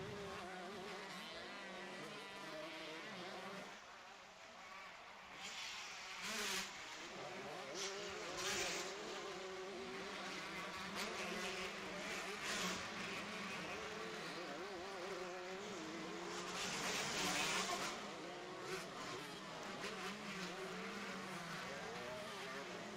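Motocross bikes race at a NSW state titles round, engines droning and revving steadily across the full stretch at a moderate distance, with surges as riders pass and a faint voice now and then.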